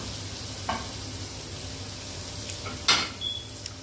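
Curry leaves frying in oil already used for a Kari meen fish fry, a steady soft sizzle with a couple of sharper crackling spurts and a faint utensil clink, no talking.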